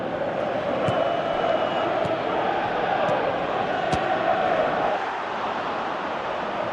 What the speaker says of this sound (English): Crowd reaction tells you just how close that was.